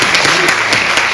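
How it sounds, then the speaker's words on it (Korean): Audience applause at a university physical therapy department event, steady and dense clapping filling the whole brief moment without a pause. "큰 박수 부탁드립니다."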